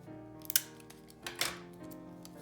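Adhesive tape is pulled from the roll in two short, sharp ripping bursts, close and crisp in a quiet room.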